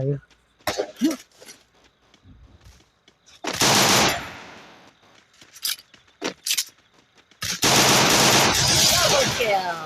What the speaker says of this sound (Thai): ปืนอะไรวะเนี่ยปืน